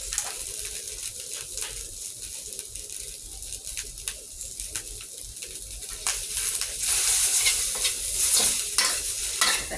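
Spaghetti is stir-fried in a hot pan with sesame oil, a close, continuous sizzle with repeated scraping and tossing strokes that grow louder toward the end.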